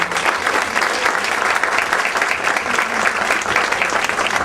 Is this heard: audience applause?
yes